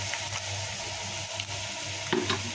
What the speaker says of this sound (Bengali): আর এখানে পেঁয়াজ রসুন দিয়ে দিয়েছি তেলে সরিষার তেল দিয়েছি একটু বাদামি করে ভেজে নিচ্ছি